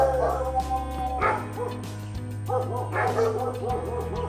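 Repeated barks and yips from a large dog by a house near the sea, moderately close, in uneven bursts with whimpering tones over a constant low droning background.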